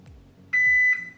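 A Tuya Smart Life connected home alarm hub gives one steady electronic beep, close and clear, lasting under half a second as a new detector is paired, with faint low background noise around it.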